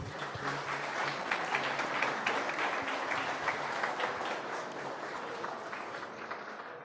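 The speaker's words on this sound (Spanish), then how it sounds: "Les brindamos un fuerte aplauso." Audience applause at a federalism conference in a hall, a steady wash of many hands clapping throughout, fairly distant and even, fading slightly at the end.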